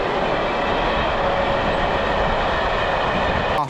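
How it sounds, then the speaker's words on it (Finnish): An ordinary old train locomotive passes close by in slushy weather, a loud continuous rumble and rush of wagons with steady rail noise throughout, ending in a brief sharp click. "Juna oli tavallinen veturi."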